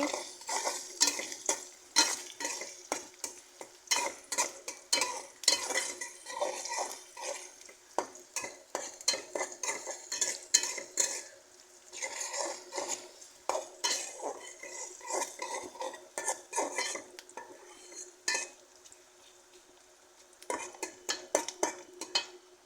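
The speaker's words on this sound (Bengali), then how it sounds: "তো এলাচি দারচিনিগুলো নেড়ে দিচ্ছি।" Whole cardamom pods and cinnamon sticks stirred in a frying pan, with a steady run of scraping and clinking spoon strokes against the metal over a soft sizzle, close and continuous with no talking.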